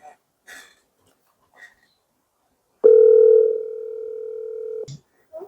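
A telephone line gives one steady dial tone, loud and close for about two seconds, then cuts off. Faint breaths and small noises come before it and just after it.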